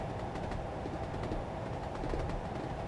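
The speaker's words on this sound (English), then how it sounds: "the rumbly noise of goodness" A continuous low rumble of a Class 37/4 diesel locomotive train in Train Simulator 2021 on the Wherry Lines, steady and even throughout with faint rhythmic clicks on top.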